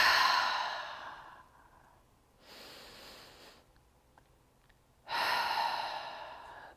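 A person exhales deeply and audibly several times during yoga-style stretching. Each long, breathy sigh is heard close up, with quieter breathing in between.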